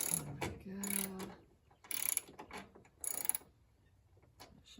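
Ratchet wrench with a 9/16 socket loosening wind wing bracket bolts on a 1929 Ford Model A roadster, several short bursts of rapid clicking separated by pauses, close and fairly quiet.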